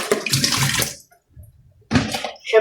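Water poured into a cooking pot, a loud splashing pour that stops briefly, then resumes in a second burst.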